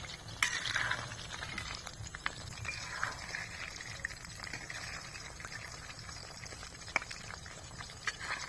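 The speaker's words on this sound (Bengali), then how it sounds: "চিকেনগুলোকে ভালোভাবে উল্টে পাল্টে ভেজে নেব" Chicken 65 pieces frying in oil over a low flame as they are turned, giving a soft, steady sizzle and crackle with scattered pops, quiet and close, with no talking.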